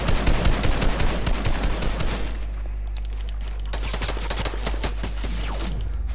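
Gunfire in the video game Fortnite, a rapid burst of automatic shots for about two seconds, then sparser single shots and short bursts over a low steady hum, fairly loud, with no talk.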